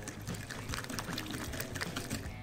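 Rapid, busy wet clicking and sloshing of a whisk beating batter in a bowl as flour is gradually added, continuous and close.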